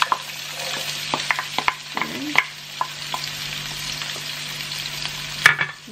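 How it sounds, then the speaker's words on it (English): Onions sautéing in oil in a pan, a soft continuous close sizzle with occasional utensil clinks and scraping from stirring throughout. "Now, we're gonna saute our onions."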